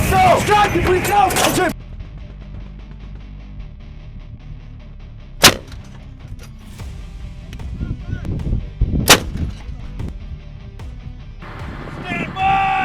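Artillery fires twice with sharp, loud booms a few seconds apart, heard from a combat position in the Ukraine war, with shouting voices and rumbling background noise around the shots.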